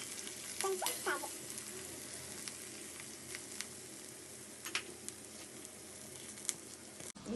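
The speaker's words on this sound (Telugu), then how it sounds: "ఇదిగో ఇలా ఫ్రై అవుతుంది కదా" Chopped onion, ginger garlic, tomato pieces and cashews fry in a pan on a low flame for butter chicken, a soft steady sizzle with occasional spoon taps and scrapes, quiet and close, no voices.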